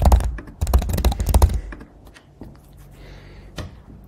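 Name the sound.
typing a password on a computer keyboard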